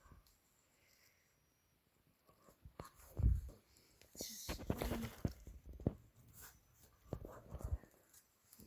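Scissors snip and slice through the cardboard of a Meta Quest 3S box in short, scratchy bursts with quiet pauses between, heard up close and faintly.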